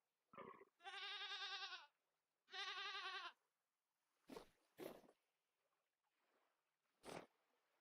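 Goat bleating in the survival game Vintage Story: two long, wavering bleats, then several short sharp bleats, close and loud against a quiet background.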